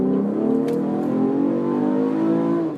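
A modified 2013 Chevrolet Camaro with an upgraded V6 six-cylinder engine revs loud and close, a steady throaty drone that holds and climbs gradually in pitch for a few seconds, with no talking.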